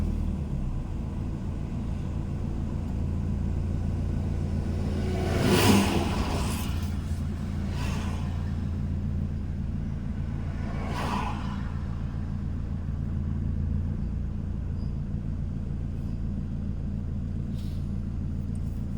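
A car heads down the Chong Tako mountain pass in heavy traffic with a low, steady rumble of road and engine noise from inside. A few brief louder whooshes of passing vehicles rise over it.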